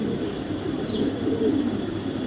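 Red checker female racing pigeon gives soft low coos, fairly faint, over a steady background hum with no talking.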